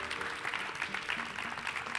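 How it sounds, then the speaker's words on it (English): An audience claps for panelists at the close of a healthcare workforce panel discussion: a soft, steady round of applause, heard at some distance and quiet throughout, with a faint tonal hum beneath it. "If you could give the panelists a round of applause here for doing such a great job."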